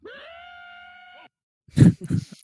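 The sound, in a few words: voice imitating a scream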